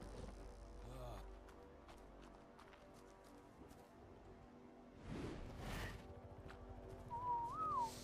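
Dino command whistle from ARK: Survival Evolved, a short rising-then-falling tonal whistle near the end, heard over busy game ambience with hoof-like clatter and noise bursts.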